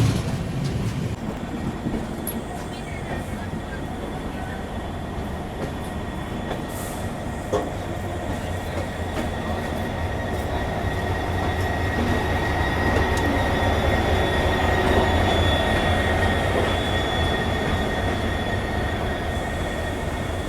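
An Indian express train, number 20504, rolls past at a crossing in a long, steady rumble of wheels on rail, with rising clatter and faint squeals, unbroken by any voice.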